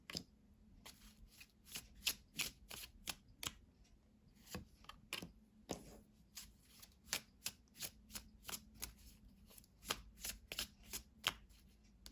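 Tarot cards are shuffled by hand in a quiet room, giving repeated soft riffling snaps and taps at an uneven pace over several seconds, faint and close, with no talk.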